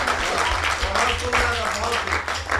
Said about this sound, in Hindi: ये तालियां मेरी कविता पे बजा रहे हो कि सहानुभूति में?